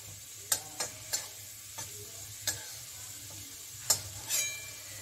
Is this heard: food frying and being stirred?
yes